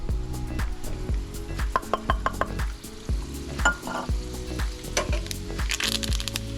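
Thyme, green onions and garlic sizzle in hot oil with steady crackling, punctuated by repeated close stirring scrapes of a utensil in the pan, continuous and fairly loud, no talk.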